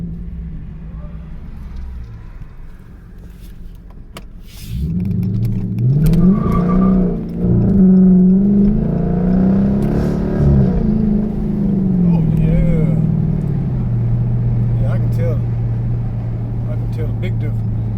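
A car drives on the road after repair, engine note rising as it pulls away and holding a steady drone with road and wind rumble from inside the cabin, while someone talks over it.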